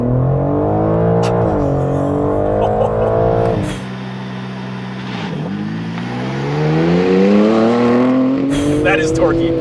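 A 2021 BMW M4 Competition with a twin-turbo inline six launches hard under launch control, the engine roaring up through the revs, dipping on a shift, then climbing again, loud and close with talking over it.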